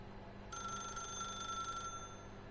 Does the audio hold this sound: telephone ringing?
yes